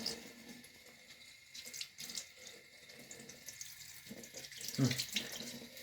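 A bathroom sink tap runs steadily while a toothbrush is rinsed under it, a soft continuous splash with a brief louder gush near the end, heard up close at low volume.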